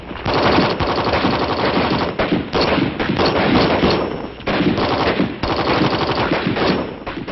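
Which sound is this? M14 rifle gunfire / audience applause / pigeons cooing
M14 rifle gunfire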